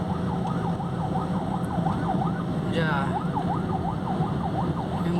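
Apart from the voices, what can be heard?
ambulance siren on the road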